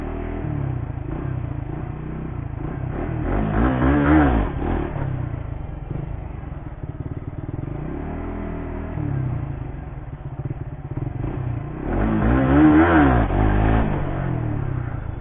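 A 2020 Suzuki GSX-R150 motorcycle revving for wheelie attempts, its engine climbing in two strong surges with a quieter stretch of idling and gentle throttle between them, recorded close and loud over a steady mechanical clatter.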